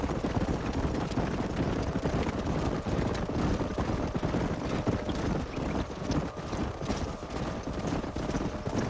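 Horses gallop in Red Dead Redemption on Xbox 360, a dense, continuous clatter of hooves drumming close by at a steady mid level with no break.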